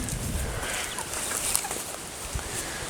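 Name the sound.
broiler chicken clucking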